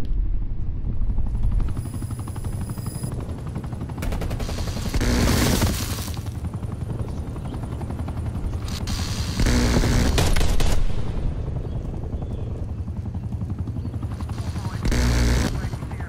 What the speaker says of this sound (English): Good helicopter, good helicopter.